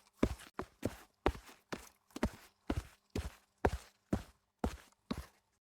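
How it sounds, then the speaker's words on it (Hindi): Footsteps of a boy arriving, about eleven evenly spaced, firm steps in a steady walking rhythm, close and distinct with silence between, in a Hindi cartoon story. "विक्रम की आहट सुन के दोनों चुप हो गए"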